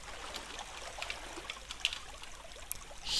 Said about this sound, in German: Hier ist eine Wasserquelle.